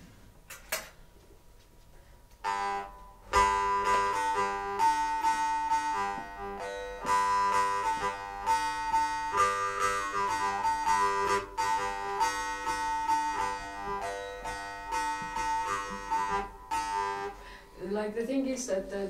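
A Jew's harp played with a Norwegian technique gives a sustained, buzzing twang with shifting overtones that sing above a steady drone, starting after a short quiet lead-in and ringing continuously, close and fairly loud.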